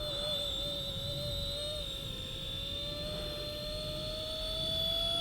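A small brushless RC helicopter flies nearby with a steady high-pitched motor whine and a rising rotor tone, running continuously over a faint low rumble.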